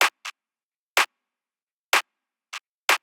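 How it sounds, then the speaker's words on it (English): Short, dry groove claps hit in a syncopated pattern, six crisp hits with uneven spacing and a couple of softer ones, layered as a groove element in a minimal deep tech beat, with nothing else playing. "you can then layer in some groove claps"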